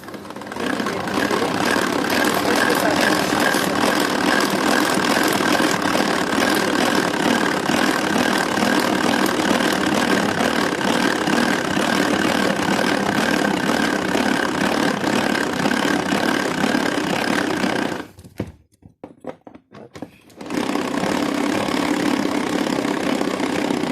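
A Tupperware kitchen appliance set to speed 1 while making an apple cake gives a loud, steady motorized whir close by. It cuts out briefly near the end with some rattling, then resumes.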